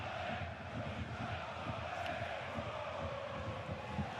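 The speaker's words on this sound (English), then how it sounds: "But the crowd sounds good." A football stadium crowd at a Saarbrücken versus Borussia Mönchengladbach match keeps up a steady, distant roar of chanting and cheering, a dense wash of many voices without pause.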